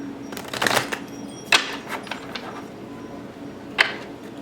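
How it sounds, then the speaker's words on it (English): Tarot cards shuffled during a Sagittarius reading, giving a few short papery riffles and snaps with quiet gaps between them, close and fairly soft. "Shuffle that one more time."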